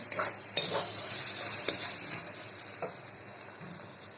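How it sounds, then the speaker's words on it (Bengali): Snake gourd frying with egg in a pan gives a soft, steady sizzle, with a few sharp clicks and scrapes of a spatula against the pan. "আজ বানাবো আমি চিচিঙ্গা ভাজা ডিম দিয়ে"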